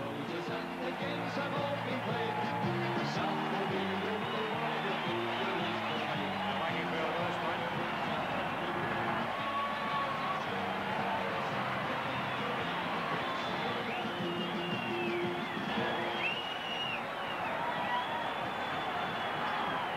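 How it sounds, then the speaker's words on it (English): Dense crowd roar at a 1979 Brisbane Rugby League grand final as the Southern Suburbs Magpies take the field, a steady broad wash of cheering and whistles held at constant loudness for the full stretch. "here's the Southern Southern Southern Suburbs team taking the field right now. And have a listen to the crowd."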